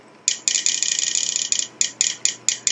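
Brick-placing sound effect from the Blockland building game: a rapid, bright clicking rattle, near and steady, that runs for about a second and then breaks into several separate sharp clicks, with no speech.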